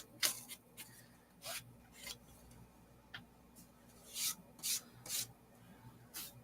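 Homemade rub n buff paste being smoothed onto a surface by hand, giving soft, irregular rubbing strokes and brief raspy swipes at an uneven rhythm, fairly quiet, with no speech.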